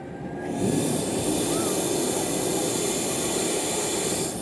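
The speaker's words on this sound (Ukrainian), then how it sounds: "вакуумний екскаватор, який є єдиний в Україні у нас в Миколаєві" A Volvo-based vacuum excavator in Mykolaiv runs with a loud, constant roaring suction and engine drone that swells within the first half second, then holds steady and close without letup.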